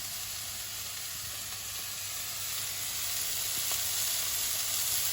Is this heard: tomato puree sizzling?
yes